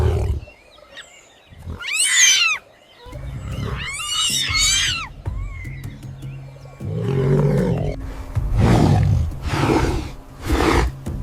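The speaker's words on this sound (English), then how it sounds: "She crashes through the bushes, her roar scattering the remaining baboons who dare not face an enraged adult" An enraged lioness roars repeatedly on the African savannah, loud and close, as she charges through bushes to scatter baboons; several strong roaring bursts come with throaty snorts and growls between them.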